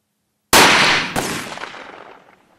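Two sharp, loud shotgun blasts from an ELOS Traqueur 12-gauge firing Brenneke slugs outdoors, about half a second apart, followed by a long fading echo after silence.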